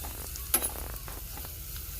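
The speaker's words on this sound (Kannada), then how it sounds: "ಈಗ ಆಲ್ರೆಡಿ ಇದೆಲ್ಲನೂ ಸಹ ಅಂದರೆ ವಿಳೆದೆಲ್ಲನೂ ಸಹ ಫ್ರೈ ಆಗ್ತಾ ಇದೆ" Betel leaves and garlic frying on a low flame, a soft steady sizzle with one brief clink of stirring near the start, no talking.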